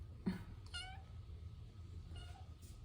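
A cat meows softly three times, the calls spaced apart, against a quiet room with a low hum.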